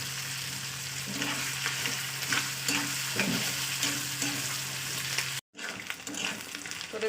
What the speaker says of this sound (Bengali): এবার আমি এর উপরে কাঁচা লঙ্কা পেঁয়াজটাকে দিয়ে দেবো